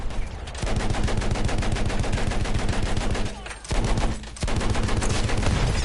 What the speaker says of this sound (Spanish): ¿De dónde ha venido ese disparo?